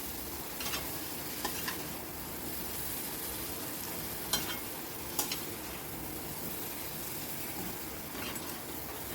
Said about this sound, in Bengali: অনবরত কিন্তু নাড়তে হবে, খুন্তি নাড়ানো বন্ধ করা যাবে না, তাহলেই কিন্তু পোড়া লেগে যাবে।